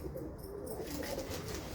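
Pigeons kept in handmade cages coo softly and steadily at a moderate distance, a low murmuring drone that continues throughout without pause.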